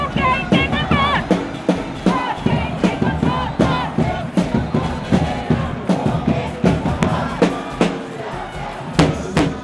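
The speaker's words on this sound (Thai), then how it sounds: "ร้องเพลงให้กองเชียร์ทีมเยือนฟัง เพื่อบอกว่าบุรีรัมย์เก่งสุดยอด กับเพลงที่มีชื่อว่าบุรีรัมย์โคตรเก่ง" Buriram FC supporters chant together in a packed Thai football stadium, a loud massed crowd voice with rhythmic drum hits or claps punctuating the singing at a steady beat throughout.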